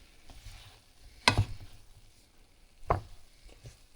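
Chicken fried rice is stirred in a pan, giving two distinct scraping clatters of a utensil against the pan about one and a half seconds apart, over a low, steady sizzle with no talking.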